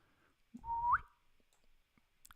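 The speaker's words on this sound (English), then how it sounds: "I've been doing a lot of whistling today." A person whistles one short rising note, a single clear tone that slides upward, fairly close, in an otherwise quiet room.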